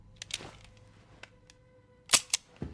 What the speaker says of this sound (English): His rehearsal is a knock-knock joke followed by blowing his brains out with his gun.